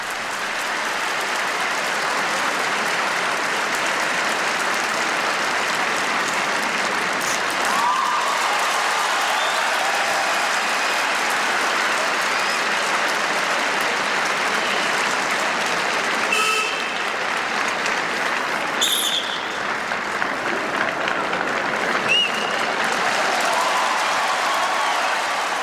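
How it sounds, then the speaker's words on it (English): A figure skating arena crowd applauds and cheers in a dense, sustained roar of clapping that holds steady the whole time, with a few whistles and shouts rising out of it. "cheered on by the crowd"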